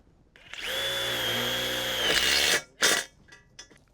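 A power drill drives screws into the bow joints of a caterpillar tunnel. It runs at high pitch for about two seconds, winds down, then gives one short follow-up burst, loud and close with no talking.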